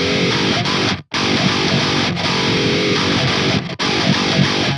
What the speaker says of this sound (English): And coming to the guitar tones here.